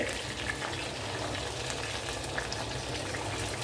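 Brinjal pieces frying in hot oil while cooking a spice mix, a steady, dense sizzle with soft crackles holding even throughout at moderate level, no voices.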